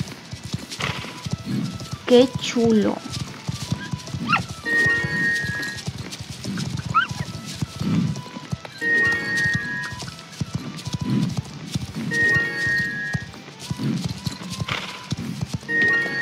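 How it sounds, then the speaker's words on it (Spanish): Many horses gallop together during a race in the Star Stable video game, steady hoofbeat clatter running throughout under game music chimes, while someone talks excitedly over it. "Escucho todos los caballos corriendo."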